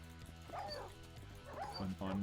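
A Minecraft dog yips and whimpers in short, high-pitched bursts, two or three calls close by over a low background.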